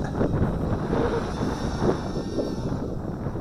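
Steady wind buffets the microphone during the outdoor flight of an Eachine Wizard X220 FPV racing quadcopter in a roughly 10 mph breeze, a continuous rushing roar with a faint motor drone underneath.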